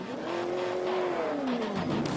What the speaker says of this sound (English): What Borla does with the sound of this exhaust.